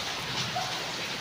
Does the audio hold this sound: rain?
yes